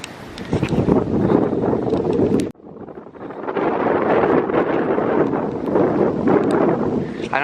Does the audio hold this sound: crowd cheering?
no